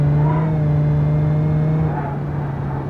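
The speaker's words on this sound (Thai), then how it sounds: "เดี๋ยวลองมาดูภายในแบบ ว่าฟังเสียงกันว่าเมื่ออยู่ภายในเวลาขับ เป็นยังไง" Cabin of a Nissan Maxima while driving, a steady low engine drone with a smooth hum and faint road noise, constant and fairly loud throughout, no talking.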